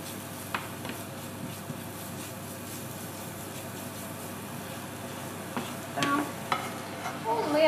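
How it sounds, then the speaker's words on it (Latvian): Carrots sizzle in a pot while being stirred for meatball soup, a soft frying hiss broken by scraping stirs and clinks that grow busier toward the end. "Burkāniņi ir gandrīz apcepušies un pieliksim bišķiņ miltus."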